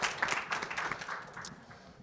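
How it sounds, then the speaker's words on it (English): At a conference on revenue strategy and asset management, the audience claps for the panel, a modest patter of hands that is strongest at first and gradually thins and fades over two seconds. "let's give Teague and Lee Hunter a big round of applause for what they've done"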